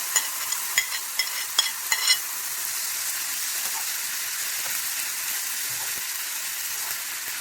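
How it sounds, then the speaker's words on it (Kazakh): Fried minced meat and green beans sizzle in a pan, opening with a few sharp clattering stirs and settling into a steady close hiss of frying. "Қыздар, енді осы көкөнісімізге қайтадан қуырған фаршымызды саламыз."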